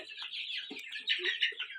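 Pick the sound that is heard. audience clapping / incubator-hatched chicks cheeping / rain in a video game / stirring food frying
incubator-hatched chicks cheeping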